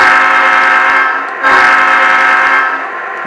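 A locomotive horn played through a locomotive control system, loud and sustained with a rich chord, sounding in two long blasts with a brief break between them.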